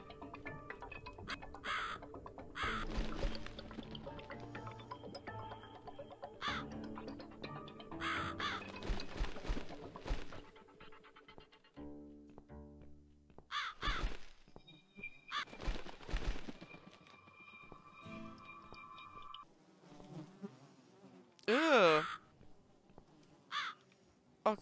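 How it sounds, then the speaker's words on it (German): Crow caws from the horror adventure game The Cat Lady, heard as a few harsh calls scattered through a busy stretch of game sound with music and other effects, fairly faint in the mix. "Jetzt folgen wir mal der Krähe."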